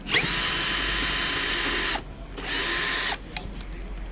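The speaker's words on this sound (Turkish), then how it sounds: "Kapağımızda iki tane vida tutuyor. Onları söküyoruz hemen." A power drill unscrews the screws holding a cover over a Kuba Ege's battery and fuse, giving two loud, close, high-pitched whirring runs with a short pause between them.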